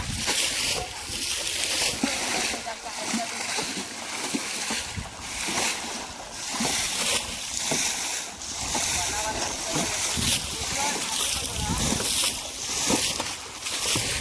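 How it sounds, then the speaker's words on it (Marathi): Water is bailed out of a shallow river pool during fishing, with repeated splashing and sloshing in a continuous, loud, close rhythm, while voices talk over it. "असं आम्ही उपसतो नदीला."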